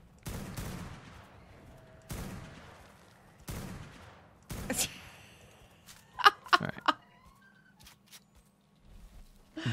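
Gunfire in the modded ARK: Valguero game: several separate loud shots spaced a second or so apart, followed by a cluster of sharp clicks and smaller cracks against quiet background ambience.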